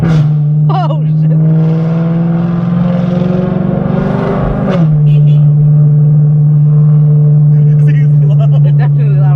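A BMW E90 with a straight-pipe X-pipe exhaust revs hard, and its raspy drone climbs in pitch before settling back to a loud, steady idle rumble. The sound is close and very loud, and people speak over it.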